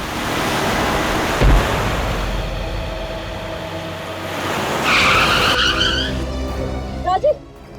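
A car brakes suddenly, its tyres skidding in a long, loud screech that swells midway and then breaks into squealing bursts near the end, with a brief thud early on and no voices.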